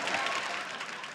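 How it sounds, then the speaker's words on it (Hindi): Studio audience applause on a TV quiz show, a dense, steady wash of many hands clapping at moderate level throughout, with no break. "तालियों के साथ इनका हम स्वागत करते हैं।"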